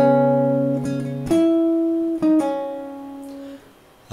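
Fingerstyle acoustic guitar playing measure 69 of a song from Your Name: a few plucked chords and ringing notes at a moderate pace, close and clear, with no talking.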